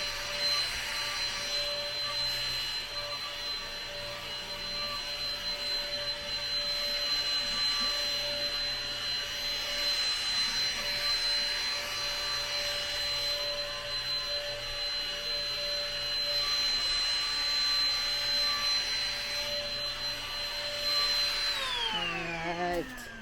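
A household vacuum cleaner cleaning up silver dust shed by Christmas tree decorations runs steadily and loudly with a high whine for over twenty seconds, then winds down as it is switched off at the end.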